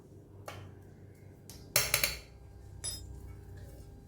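Ground spice paste is scraped out of a steel mixer jar into a vessel for veg kola urundai: a few sharp metallic clinks and knocks, the loudest cluster in the middle, over quiet kitchen background.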